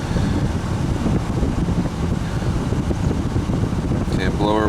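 Car blower fan running steadily with a loud, broadband whooshing roar, and a voice briefly coming in near the end.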